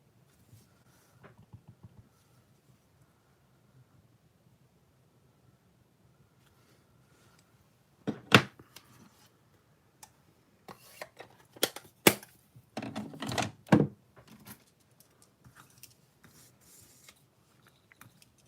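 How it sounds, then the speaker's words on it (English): A rubber stamp bearing a bee design is pressed onto a paper strip a couple of times in a quiet craft setting, giving a few sharp, close taps and rustles after a long near-silent stretch. "So I'm going to stamp that out a couple of times onto this strip here."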